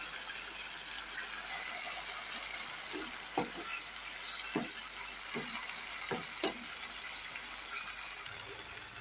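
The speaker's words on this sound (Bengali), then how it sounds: "এই মশলাটা কষাতে থাকি অনেকক্ষণ ধরে কষানো হবে" Masala spices sautéing in a pan for chicken, giving a steady frying sizzle throughout, with several sharper stirring scrapes in the middle of the stretch and no voices.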